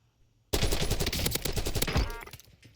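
Sustained rapid automatic fire from a KRIG C assault rifle in the Warzone battle royale game begins abruptly after a short quiet moment, dense and loud, then tapers off near the end.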